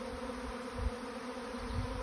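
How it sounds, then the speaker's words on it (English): Honeybee buzzing near the face amid a swarm, a steady droning hum with the pitch wavering as it zips close, two louder passes, no talk. "there's one bee zipping around my face there a little bit."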